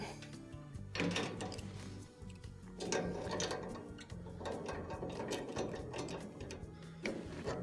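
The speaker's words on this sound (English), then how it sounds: "Now we can go back with our crescent wrench and tighten these back up." A crescent wrench tightens gas fittings on the pressure regulator of a Frigidaire oven, making quiet, close, repeated metallic clicks and scraping turns in short bursts.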